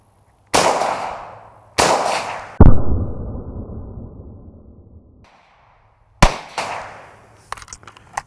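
Ruger Mini-14 rifle firing during a dust test, a few loud sharp reports spaced out over several seconds, each with a ringing decay, and the metallic clack of the action between shots.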